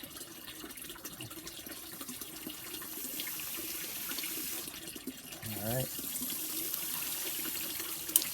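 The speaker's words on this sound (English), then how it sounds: "just water them a little bit, give them a little water" Water pours from a tap or hose onto herbs in a permaculture salad garden near a pond, a soft steady splashing flow, with someone speaking briefly and a short louder gurgle midway.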